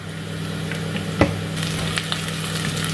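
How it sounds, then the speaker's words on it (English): Garlic frying in a pan, a steady close sizzle and crackle with a few louder pops and stirring knocks. "I love the smell of frying garlic."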